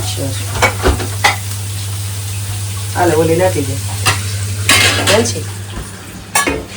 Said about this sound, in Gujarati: થઈ ગયો વઘાર. આમ જવા દો વિરલબેન. તેલ ગરમ છે.